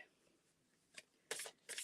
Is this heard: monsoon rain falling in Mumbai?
no